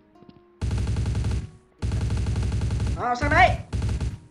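Automatic gunfire in the shooter game Truy kích, two long rapid bursts of loud close shots followed by a shorter burst, with someone speaking briefly between them.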